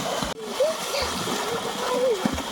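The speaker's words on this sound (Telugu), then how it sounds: "మళ్ళా నీళ్ళు కొడుతుంది" Water is splashed by hand outdoors at Mallalamma Kona, giving repeated close splashes and sloshes. A voice chatters over the splashing throughout.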